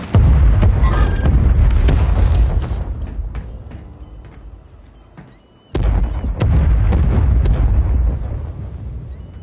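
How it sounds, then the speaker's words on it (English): Mortar strike shells land in Warzone as repeated heavy, rumbling explosions. A dense barrage fades into a quieter lull, then a second loud salvo of booms bursts in. "Friendly mortar strike on the way."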